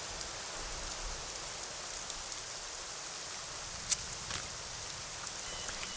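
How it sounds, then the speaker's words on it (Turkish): Steady rain falls in the video game The Witcher 2, a constant wash of hiss at moderate level with no talk over it and one brief sharp tick partway through. "Ya artık ne olur ya şu yağmurdan kurtulayım ya."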